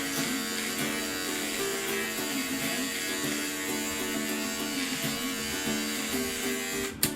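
A Philips electric beard trimmer runs continuously on a mustache, a steady close buzzing hum with a sharp click near the end.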